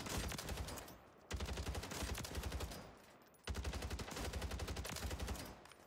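Gunfire in Warzone: three long bursts of rapid automatic fire, separated by short pauses, sharp and close with no talk.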